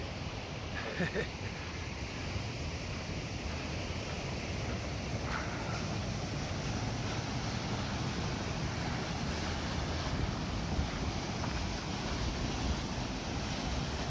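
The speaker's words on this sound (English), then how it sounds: "So that waterfall is probably 10 feet high" A waterfall about 10 feet high pours into a swimming hole in the Grand Canyon. It makes a steady, full roar of rushing water, broad and constant throughout, with some wind buffeting the microphone.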